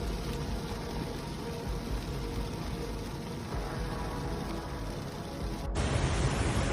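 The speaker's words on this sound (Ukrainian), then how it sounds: "Град в Онтаріо в Канаді." Hail pelts down during a storm in Ontario, Canada, a dense, steady roaring hiss of countless impacts that runs unbroken before cutting abruptly to a slightly louder wash of noise.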